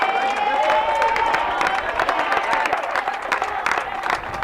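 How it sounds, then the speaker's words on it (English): A tennis crowd at an ITF World Tennis Tour men's match on center court in Gaborone claps and cheers steadily, a dense wash of applause with scattered louder claps and shouts running throughout. "Crowd getting behind Ntunga now"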